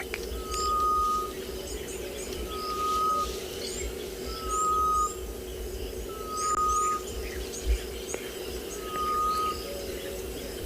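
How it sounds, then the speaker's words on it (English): A grey-headed bush shrike calls on an afternoon safari in South Africa, a series of five evenly spaced, drawn-out whistled notes carrying clearly over insect buzz and other faint birdsong. "Wonderful sounds of the grey-headed bush shrike"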